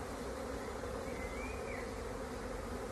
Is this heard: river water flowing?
no